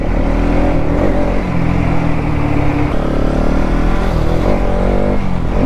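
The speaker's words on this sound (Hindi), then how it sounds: "बहुत मिस मार रही है गाइस, बहुत ज़्यादा।" A 200cc motorcycle on a mileage test ride runs with a loud, close, rough engine drone that misfires and stumbles irregularly as it cruises along.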